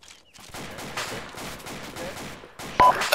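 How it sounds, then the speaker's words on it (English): AK rifle fire in the military shooter game ArmA II, a rapid rattling burst of repeated shots that sounds somewhat distant, ending with a sharper, louder crack near the end. "That AK fire is fucking close southwest."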